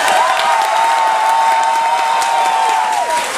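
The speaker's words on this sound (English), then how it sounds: "I said vote by applause, not by yelling out letters." A cruise ship show audience applauds to vote on a trivia answer, giving a dense, steady roar of clapping and cheering with a sustained whistling tone running through it.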